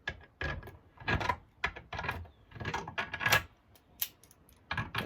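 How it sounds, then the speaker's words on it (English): Vice grips clamp down on a worn miter saw hold-down with a broken adjustment bit, tightening it onto a piece of wood; a run of close, sharp mechanical clicks and ratcheting bursts, loud and dry, with no talking. "I have to use a pair of vice grips to tighten down"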